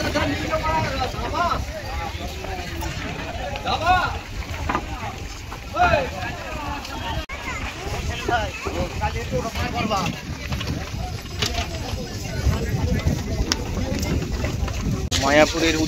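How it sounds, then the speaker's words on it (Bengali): Boat ride on the river toward Mayapur, with steady broadband engine and water noise and wind buffeting the microphone throughout, while people talk nearby over the rumble. "মায়াপুরের উদ্দেশ্যে নৌকা ঘাটে টিকিট কেটে নৌকার উপরে"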